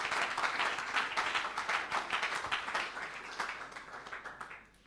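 A church congregation at a Sunday service applauding, steady dense clapping from many people, moderately distant and fading slightly toward the end.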